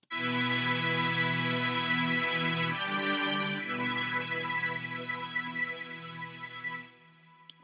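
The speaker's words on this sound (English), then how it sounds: "now I've got some orchestral strings." Sustained string chords play full and rich, changing harmony partway through, then fade away into near silence at the end.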